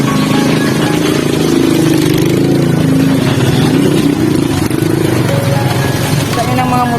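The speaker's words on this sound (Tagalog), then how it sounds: "Dami ng mga motor, nagalukso-lukso." Several motorcycles ride along a rough, bumpy dirt road in Kabulanan, Bagumbayan, their engines a loud, continuous drone with rattling and jolts throughout, while voices talk over the noise.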